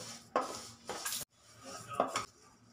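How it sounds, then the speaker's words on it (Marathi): Moong dal dry-roasting in a kadhai for bhajani, stirred in a few short scraping bursts of lentils and utensil against the metal pan, close by, with quiet gaps between. "आता त्याच कढईमध्ये 1 कप मुगाची डाळ देखील भाजून घेते"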